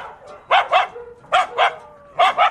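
A small dog yaps in three quick pairs of sharp barks, each pair a double yip spaced about a second apart, loud and close with faint background between bursts.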